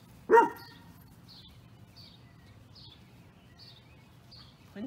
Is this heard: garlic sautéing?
no